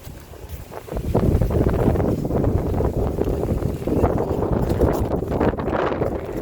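Steady, loud wind buffeting the microphone, a continuous roaring rush that swells after the first second and holds without pause.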